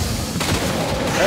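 Gunfire in the Gungrave U.N. VR arcade shooter on PS5 PSVR, a dense, loud burst of shots and booms that fills the whole short stretch, with game noise running continuously underneath.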